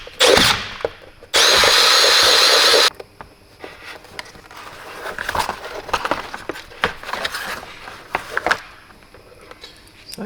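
A power drill bores a hole for cables during a UTV snow-track and cab-heater install, a loud steady whine of about a second and a half, followed by quieter handling clatter and scattered knocks.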